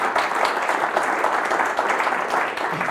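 Audience applauding speakers at an energy flexibility forum in Prague, a steady, dense clatter of hand claps lasting the full three seconds, fairly close and without pauses.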